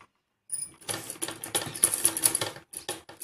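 A sewing machine runs in short bursts while stitching a salwar, with quick mechanical rattles that start and stop over a few seconds and a hiss underneath.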